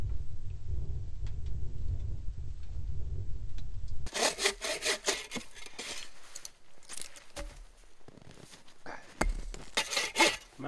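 Saw with a worn-out blade cutting very dense wood inside a hot tent on an ice-fishing trip; a low rumble gives way to loud, close, rhythmic rasping strokes with short pauses between them.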